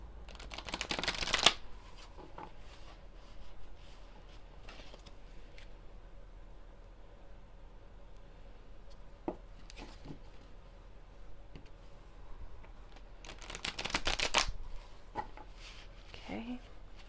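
Two brisk riffles come from a deck of oversized tarot-style cards being shuffled close by, one at the start and one near the end, with quiet handling and soft rustles in between.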